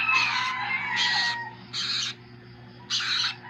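A hungry pet bird chick cries in four loud, shrill bursts, each about half a second long, separated by short pauses over a faint low hum, close to the listener with no talking.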